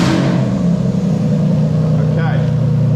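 A Toyota 2JZ-GE inline-six fitted in a Lexus IS200 cranks and catches, settling into a loud, steady close idle with a brief higher whir partway through.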